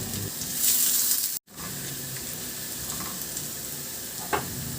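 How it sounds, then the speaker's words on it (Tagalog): Garlic sautés in oil in a pan, giving a loud, close, continuous sizzle with stirring scrapes, one brief silent break and a small clatter near the end. "magdagdag ako ng kunting mantika at igisa ko na yung bawang"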